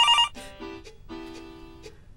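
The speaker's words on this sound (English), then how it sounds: "You're getting a phone call now, Mr. McLeod." A telephone rings in an indoor comedy scene during a telethon, a short electronic ringtone burst followed by two more ringing tones, clear and alone with no talk.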